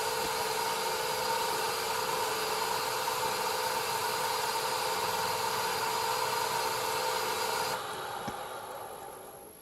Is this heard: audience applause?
no